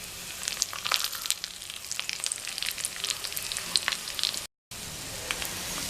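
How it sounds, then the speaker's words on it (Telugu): Atukula (poha) chudva snack fries in oil over a low flame, giving a steady close sizzle dotted with small crackles and pops, with a brief dropout near the end. "ఇదంతా లో ఫ్లేమ్లో కుక్ చేసుకోవాలి, ఫ్రై చేసుకోవాలి."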